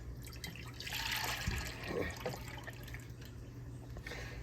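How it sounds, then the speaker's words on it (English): Milk pours steadily into a pot with a soft trickling splash, faint and continuous over a low background hum. "I got some milk here we're gonna pour in here."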